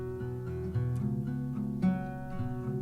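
A dry baritone guitar with no effects processing plays a steady strummed verse part of sustained low chords with a few accented changes, alone and at an even level.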